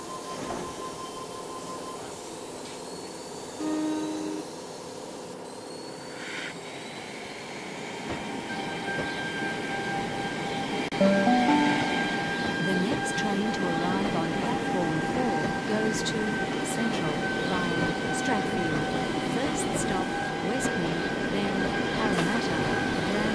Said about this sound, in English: This train is now due to depart.